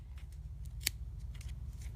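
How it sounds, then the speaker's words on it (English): Scissors snip through crochet threads on a baby bonnet, a single crisp, quiet cut standing out against a low background hum, with a few fainter clicks of the blades around it. "you're going to run your scissors right under these threads and snip as you go"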